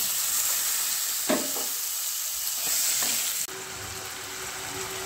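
Whole cumin, garam masala and onion paste frying in a pan for a Bengali fish-head and moong dal curry: a steady broadband sizzle with occasional stirring scrapes and clinks, a brief quieter shift near the end, no talking.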